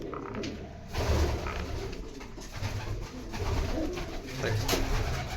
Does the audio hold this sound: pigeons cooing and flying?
yes